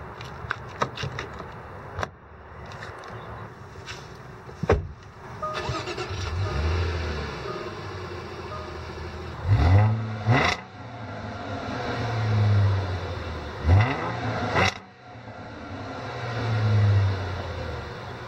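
A 2014 Jaguar XJL Portfolio AWD starts up after a few mechanical clicks, its engine catching and then settling into a steady idle with a few rev swells, heard close and moderately loud, and no one speaks.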